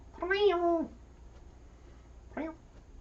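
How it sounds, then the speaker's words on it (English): A cat meows at a door, first with one long, drawn-out, wavering call, then after a pause a second, shorter meow, both close and clear over a quiet room. "there's a meow at the door"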